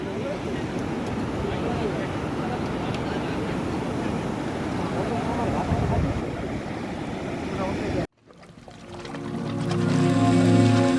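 Water from a full dam pouring over its spillway in heavy monsoon rain in a Kutch village, a steady loud rushing roar for about eight seconds before a sudden cut to a quieter scene with a low hum.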